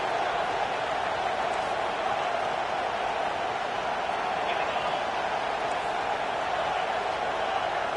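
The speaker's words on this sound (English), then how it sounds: "Decibels rising as the crowd gets behind this defense on third down." A football stadium crowd roars for the defense on third down, a steady, unbroken wash of distant cheering that holds at an even level throughout.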